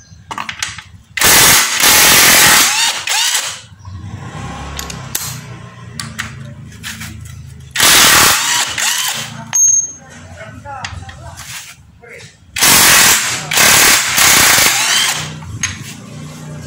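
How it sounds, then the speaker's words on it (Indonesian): Power tool loosening the rear bolt on an automatic scooter, fitted with a size 14 socket: three loud rattling bursts of a few seconds each, separated by quieter stretches of clinking and handling noise. "selanjutnya lepas untuk bagian belakang, baut belakang dengan menggunakan kunci berukuran 14."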